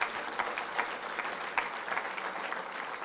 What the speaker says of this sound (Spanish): Y con el más ferviente amor le damos un fuerte aplauso de bienvenida al Espíritu Santo